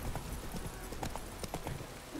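Horse hooves clip-clopping at a run in the video game The Witcher 3, a steady near rhythm of hoof beats with a faint whinny and background game sounds, with brief speech over it.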